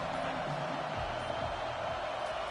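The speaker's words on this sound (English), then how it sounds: "This crowd bringing the energy and noise early." Dense, steady roar of a large stadium crowd at a football game, loud and continuous throughout with no break or single voice standing out.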